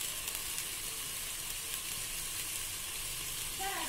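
Biryani masala hitting a hot pan of oil, giving a steady close sizzle and hiss of frying throughout, with a faint stir near the end and no talking.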